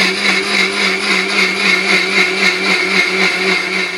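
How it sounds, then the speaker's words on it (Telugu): A mixer grinder runs steadily, grinding soaked green gram into pesarattu batter, with a loud, continuous whirring motor hum and faint rhythmic churning throughout. "ఇప్పుడు నేను పెసలు అయితే మిక్సీ పట్టుకుంటున్నాను"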